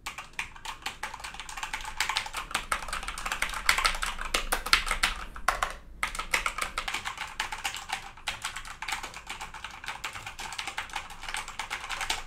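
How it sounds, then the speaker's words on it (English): Typing on a Corsair K65 RGB mechanical keyboard, a fast continuous run of crisp clacking keystrokes over about twelve seconds with one brief pause midway, moderately quiet and close, no talking. "I have the Corsair K65 RGB mechanical keyboard, although it does not make a lot of noise"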